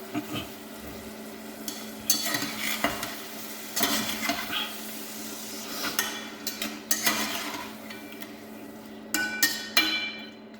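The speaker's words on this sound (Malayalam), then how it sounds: "ഇതിലേക്ക് നേരെ നമ്മൾ ചിക്കൻ ഇടാൻ പോവുകയാണ്. ചിക്കൻ ഇട്ടിട്ട് മിക്സാക്കി എടുക്കാം." Chicken pieces are stirred into fried onions in a pan for chicken curry, with a low sizzle underneath and intermittent scraping and knocking from a spoon against the pan, close and moderately loud, no talking.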